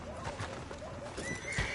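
A horse whinnies in the Red Dead Redemption 2 game world, a short nasal neigh rising out of a busy backdrop with faint hoof clops, fairly close and over steady ambient game noise.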